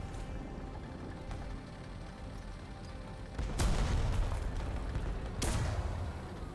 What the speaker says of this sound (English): Oh, someone else is shooting me.